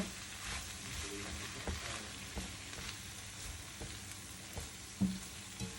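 Cabbage sautéed with dill leaves being stirred in a pan, a steady soft sizzle with scattered scraping taps of the utensil against the pan, fairly quiet and continuous with no talking.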